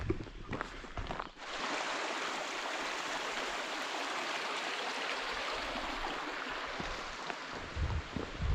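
A woodland stream rushes below a forest trail, a steady broadband wash of flowing water heard from a short distance with a few footsteps and rustles at the start and end.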